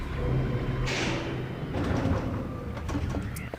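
Elevator doors sliding in the video game Silent Hill 3, a loud mechanical rumble with a hissing slide and metallic clanks, close and continuous.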